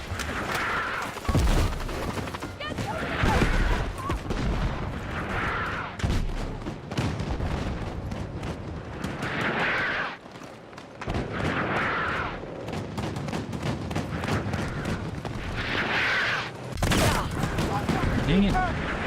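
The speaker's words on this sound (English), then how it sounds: "I never thought mortars would be so freaking annoying" Mortar fire in a combat video game thuds and booms repeatedly in uneven bursts, loud and close, layered over a busy mix of other battle noise, with a voice talking over parts of it.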